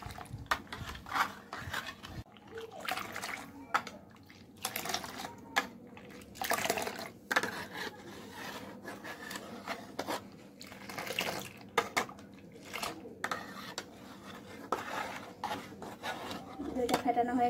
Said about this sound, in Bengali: টক দইটা দিয়ে একদম ভালো করে ফেটিয়ে নেব